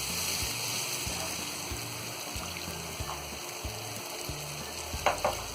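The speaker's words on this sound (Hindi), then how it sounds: "दूध के सूखने तक हम इसे अच्छी तरह भून लेंगे।" Raw papaya halwa in ghee and milk is stirred and roasted in a pan, a steady sizzle under repeated rhythmic scraping strokes of a spoon, close and moderately loud.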